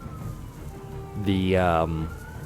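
Police car sirens sound briefly outside as the cars drive by, a short rising-and-falling wail lasting under a second amid low indoor background noise.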